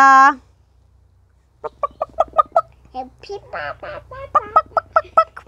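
Short repeated clucks from a chicken, fairly close, in a rhythmic series with soft voices murmuring in the background.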